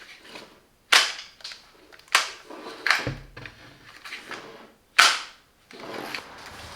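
A Parkside folding hand truck being unfolded, several sharp snapping clacks with short decays spaced about a second apart, close and loud, with no voice.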